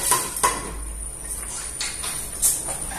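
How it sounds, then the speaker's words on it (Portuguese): Lid set onto a small cooking pot of beans: a couple of sharp metallic clinks and a scrape of metal on metal, close and clear, followed by lighter rattles and a final clink, with no talking. "Tampar a panelinha."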